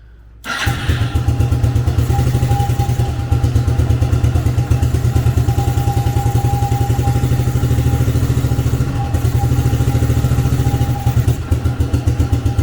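A 1987 Suzuki LT300E ATV engine catches after a brief quiet moment and settles into a loud, close, rapid idle with a steady chugging pulse and slight clattering, running unevenly on too much fuel.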